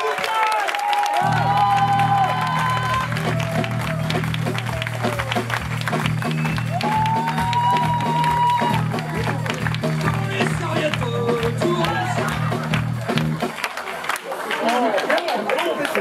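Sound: audience applause

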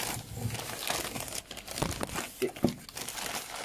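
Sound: tearing open a taped card pack

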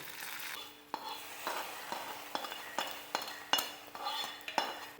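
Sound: red chillies and curry leaves added to hot oil, tempering

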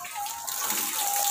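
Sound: water running from an opened tap

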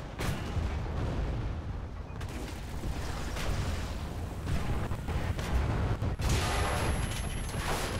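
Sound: artillery fire in War Thunder video game

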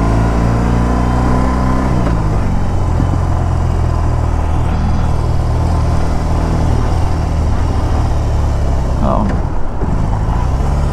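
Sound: BMW R 18 Transcontinental motorcycle engine while riding

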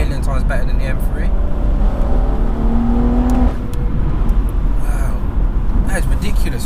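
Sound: tuned BMW M240i with JB4 exhaust sound

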